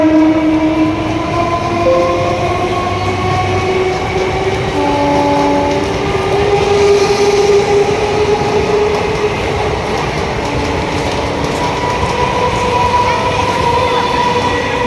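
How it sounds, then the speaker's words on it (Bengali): A suburban train bound for Naihati rolls through Barrackpore station, its steady rumble and wheel noise filling the whole stretch, with long tonal horn or brake whines held over the continuous roar. "এই যে ট্রেনটা দেখছেন, এটা নৈহাটি যাবে"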